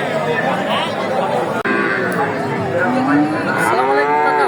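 Cattle low loudly over a busy livestock market din at Dhaperhat, Bogura, Bangladesh, with a crowd chattering and voices talking throughout.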